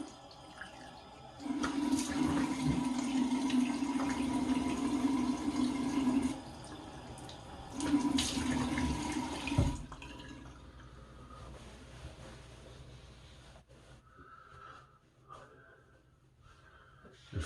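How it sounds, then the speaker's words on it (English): Tap water runs over a Vincent VT-1321 shavette during a rinse in two bursts of close, hissing flow, with a softer stretch between them and quiet dripping and handling sounds afterward. "Let me give a nice thorough rinse."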